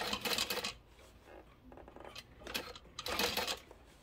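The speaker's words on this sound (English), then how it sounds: "now we're gonna sew this on at an eighth of an inch seam allowance" An industrial-style sewing machine stitching a narrow eighth-inch seam on a Hortensia barrel bag, running in a few short bursts with brief pauses, fairly quiet and close.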